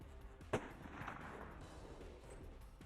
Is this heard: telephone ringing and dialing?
no